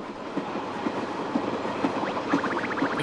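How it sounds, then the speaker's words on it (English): A train pulls into a station in the Paper Mario Color Splash video game, with steady rumbling rolling noise and a regular clickety-clack of wheels over rail joints, loud and continuous, with no talking. "The train is about to pull in the Starlight Cape."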